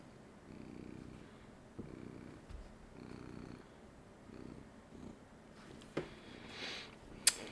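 A cat purring close by, a soft rhythmic rumble pulsing in steady breaths with a couple of small clicks and rustles near the end, no talk over it.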